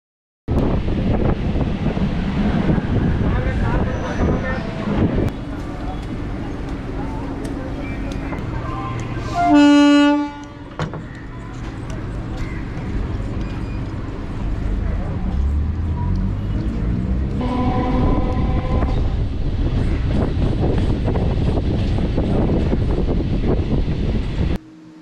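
Suburban train running between Saidapet and Mambalam stations in Chennai, a steady rushing rumble with wind buffeting, broken by one short horn toot midway.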